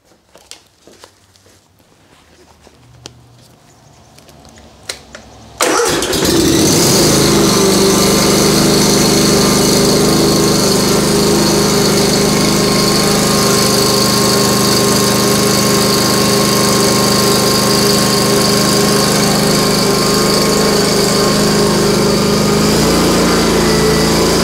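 A Kawasaki engine, after a valve adjustment, is cranked over and catches abruptly after a few quiet seconds of clicks and handling, then runs loud and steady with a constant high mechanical drone until the end.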